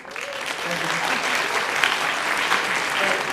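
A lecture audience breaks into applause, a broad wash of clapping that swells slightly and carries on steadily throughout.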